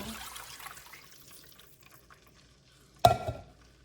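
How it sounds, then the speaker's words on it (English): Vegetable broth pours into a soup pot for pumpkin spice soup, a brief, soft liquid splash near the end following a quiet stretch of faint stirring. "now I'm gonna add the vegetable broth like so."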